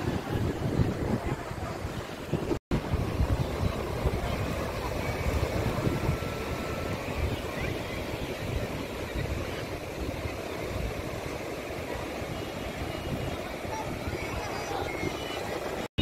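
Sea waves roll and break steadily at Puri beach, a continuous wash of surf with wind buffeting the microphone throughout, a sustained broad roar without clear gaps.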